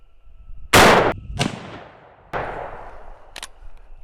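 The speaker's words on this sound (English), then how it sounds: "we're going to shoot this high right, and this is the 200 grain Sahara bullet" Two loud, sharp rifle shots from a 38-55 WCF firing 200 grain Sahara bullets, each a hard crack with a decaying tail, spaced a second and a half apart, with a fainter crack echoing between and a short click near the end.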